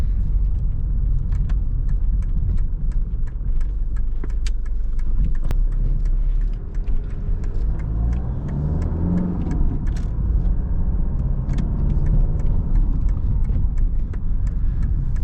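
Mercedes W124 200D diesel car on the move, its engine a steady low rumble with road and cabin noise throughout, swelling slightly as it accelerates, with occasional clicks.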